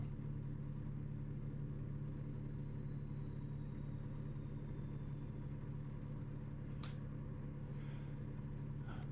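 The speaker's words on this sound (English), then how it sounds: "that DD16 turbo is more noticeable on this truck" Detroit DD16 diesel engine in an American truck driving video game, running at a steady low drone with a faint turbo whistle above it and a couple of brief clicks near the end, fairly quiet overall.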